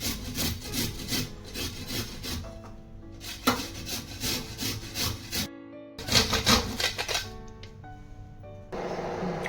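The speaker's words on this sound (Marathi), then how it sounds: "जायफळ घेतले, तूप घेतले आणि हे किसून घेते बघा बारीक चांगलं। असंच किसून घ्या।" Nutmeg is grated finely on a grater for amla murabba, close, rhythmic rasping strokes in quick bursts separated by brief pauses.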